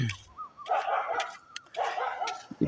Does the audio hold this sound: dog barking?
yes